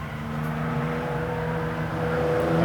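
Aston Martin on the Goodwood Festival of Speed hill course in dry, sunny weather, heard as a loud, steady engine drone with a rising pitch as it drives up the hill.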